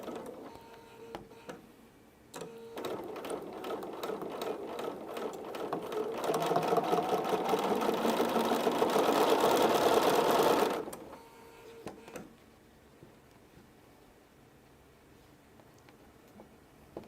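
A sewing machine stitches a Christmas quilt with a rapid, continuous mechanical chatter that runs for several seconds, then stops abruptly, leaving quieter room sound and scattered clicks.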